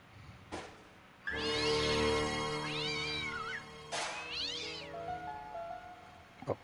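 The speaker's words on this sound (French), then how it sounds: "Il y avait un chat, je savais qu'il y avait quelque chose dedans." A cat inside a battered old bin in Broken Sword: Shadow of the Templars lets out two long, loud, wavering meows close up, each followed by quieter tonal notes.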